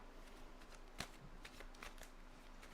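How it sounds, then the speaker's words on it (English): A deck of cards is shuffled on a tabletop during a live World Eaters versus Adeptus Custodes wargame session, giving a soft continuous riffling texture with a sharp snap near the middle, low and steady with no talk. "I'm going to give these a shuffle on camera."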